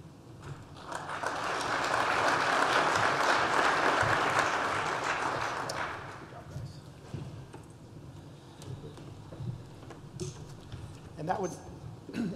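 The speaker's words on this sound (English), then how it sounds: "let's give one last round of applause to all of our participants as well as our winners" An audience at a hackathon recap applauds the participants and winners, clapping swelling and holding strong for several seconds before fading out into quieter room noise.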